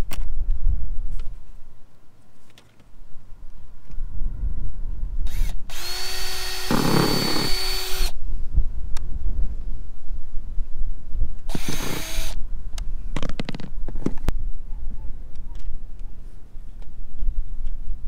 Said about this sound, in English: Now when you drill the hole, make sure you go through into the pipe.